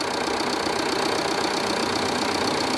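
A repaired Jeep engine, a Renegade, Compass or similar model once plagued by engine noise, idles steadily up close, its even broadband hum holding constant with no voices.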